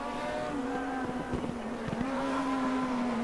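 A Ford Capri race car in the RaceRoom racing game, its side-exit exhaust droning in a steady, harmonic-rich engine note with small gear-change dips and pops, sustained and prominent throughout.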